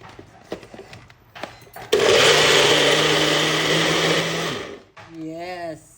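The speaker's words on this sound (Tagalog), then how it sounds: "Ayan na, i-blender na natin." A kitchen blender purees deseeded, cored tomatoes for a low-carb homemade tomato sauce, roaring loud and steady for about three seconds before cutting out, with brief talk and clatter before it and a voice after.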